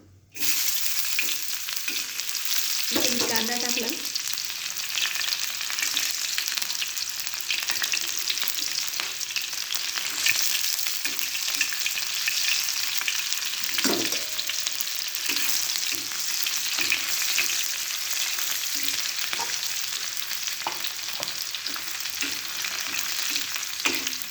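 Onion browning in hot oil sizzles steadily and up close, with light stirring scrapes and clinks now and then and no voices.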